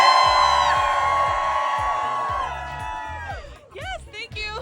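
A group of people at an onsite certificate program event yell and whoop together in a loud, sustained burst, followed by scattered shouts and voices.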